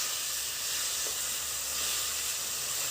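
Boiled, salted taro stalks frying in a hot pan, making a steady, even sizzling hiss throughout with no voices.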